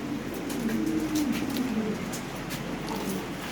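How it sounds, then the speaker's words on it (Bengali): Caged pigeons coo in low, rolling phrases that repeat a few times, moderately close over a quiet background. "প্রতিটা খাঁচায় কবুতর"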